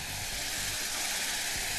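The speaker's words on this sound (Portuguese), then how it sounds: "Manteiga com açúcar na panela." Butter and sugar sizzle in a pan on a stovetop, a steady, close, continuous hiss and crackle with no pauses.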